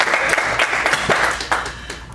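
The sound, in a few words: audience applause at a talk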